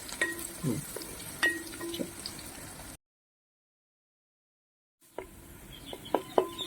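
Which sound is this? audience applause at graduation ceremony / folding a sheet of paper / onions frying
onions frying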